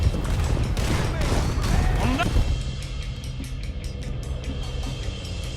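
Gunfire during a wagon chase in Red Dead Redemption 2, with dense overlapping shots and booms for about two seconds that then thin to a few scattered, more distant pops over steady background rumble.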